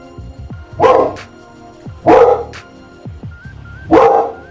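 A dog barks three times, loud and close, with evenly spaced pauses between each bark.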